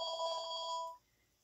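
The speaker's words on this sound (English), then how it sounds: "my phone is ringing" A phone rings with a single bright electronic trill that stops abruptly after about a second, leaving near silence.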